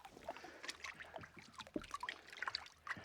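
Water splashing and trickling over a freshly scaled fish during a rinse at the Adelaide coastline, a quiet, irregular patter of drips and pours close by.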